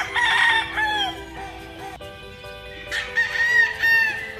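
A yellow-legged hatch rooster crows twice, with loud, drawn-out cock-a-doodle-doo calls from nearby and faint clucking between them.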